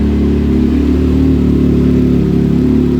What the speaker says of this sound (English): She idles perfect with Sheila's tune.